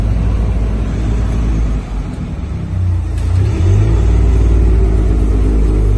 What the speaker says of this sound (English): 612 bhp GR Yaris